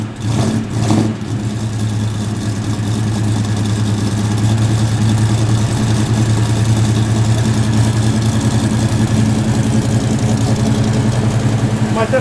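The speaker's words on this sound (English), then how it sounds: "that's got a sick idle to it, brother. Sick idle." A 1969 Z28 Camaro V8 idles loud and close with a steady, lumpy low rumble, preceded by a brief burst of voices at the very start.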